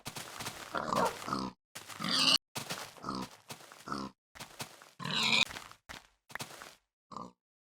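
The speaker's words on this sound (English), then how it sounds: "Pigs and sheeps." Pigs grunt and oink in a video game, a series of close, loud, short grunts in separate bursts with brief pauses between them, alone without talk.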